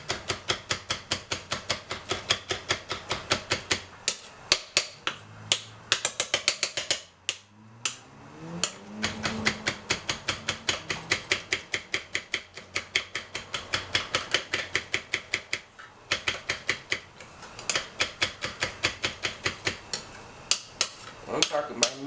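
A knife minces hot pepper on a cutting board for chicken tetrazzini: rapid, steady, close chopping strikes that run almost continuously, with a brief pause partway through and a voice murmuring briefly.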